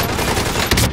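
A loud, close burst of rapid automatic gunfire in Call of Duty Warzone, the shots running together into one dense, continuous blast.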